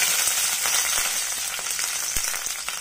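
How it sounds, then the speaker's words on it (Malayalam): Curry leaves crackling in hot coconut oil make a bright, continuous sizzle with scattered sharp pops, close and fairly loud, slowly easing in intensity. "ഞാൻ ആദ്യം ആഡ് ചെയ്യുന്നത് കുറച്ച് കറിവേപ്പിൻ്റെ ഇലയാണ് അപ്പോൾ എന്താ വെച്ചാൽ എണ്ണയിലൊരു ഫ്ലേവറും വരും"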